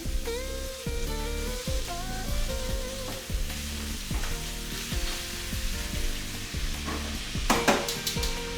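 Shrimp hits a smoking hot pan and fries with a hiss and crackle, partly buried under jazz music playing loudly with a clear melody and rhythm. A few sharp crackles stand out near the end.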